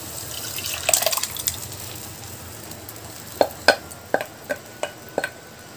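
Cooked lentils are poured into a pan of tomato and onion masala for Rajasthani dal baati: a sizzling splash at first, then a series of sharp, close metal taps and clinks spaced about half a second apart.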